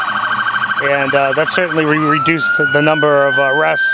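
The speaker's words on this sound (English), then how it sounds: "Sorry about the siren, by the way." A wailing emergency siren rises and falls steadily in the background while someone talks over it.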